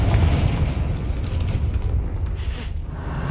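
A Confringo spell explosion in a Harry Potter video game makes a dense, rumbling low boom that holds steady for a few seconds without fading.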